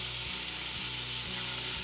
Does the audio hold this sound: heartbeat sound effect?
no